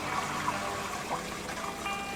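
Water rushing while an RV black tank is flushed out, a loud steady gushing wash that stays even and continuous throughout.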